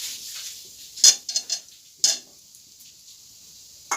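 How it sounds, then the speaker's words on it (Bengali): Fried potatoes tipped into cooked leafy greens in a pan and stirred, giving a few sharp clinks and scrapes of the spoon against the pan, quiet and close, with gaps of near silence between them. "এবার এই আলু ভাজিগুলি দিয়ে দেব"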